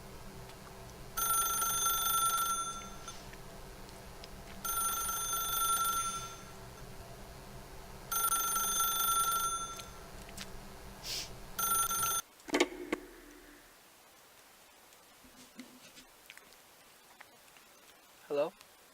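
Telephone bell ringing in repeated bursts of about two seconds with pauses between them, fairly loud, cutting off abruptly when the receiver is picked up, followed by faint room sounds.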